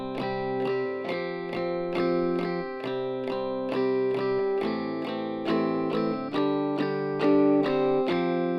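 An electric guitar strums the verse chords of "Holy Forever" in a steady rhythm, each chord struck cleanly and ringing out, played alone.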